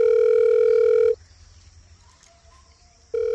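Phone tone on a call: a loud steady ringback tone sounds for about a second, drops to near silence, then returns at the end, with faint background noise in between.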